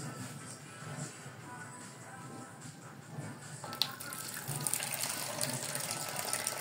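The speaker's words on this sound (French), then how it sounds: "je vais prendre mon bec verseur, je prends mon eau" Hot water poured from a spouted jug onto a kitchen scale while making homemade Marseille-soap dish liquid, a steady close trickle and gush that swells louder near the end.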